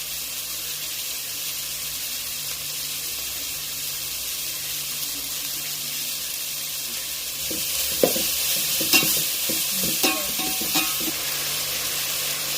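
Green chili, tomato and salt fry in oil for chicken biryani, a steady hiss running throughout, with stirring scrapes and clinks of a utensil against the pan joining in the last few seconds.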